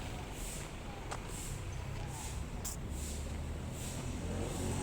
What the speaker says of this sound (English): Couple of bikes and car in front.